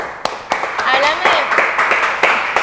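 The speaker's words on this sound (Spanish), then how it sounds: "Aplausos para Libra, por favor." Scattered studio applause on a Spanish-language podcast set, a small group clapping in uneven bursts with sharp individual claps, while a voice talks over it.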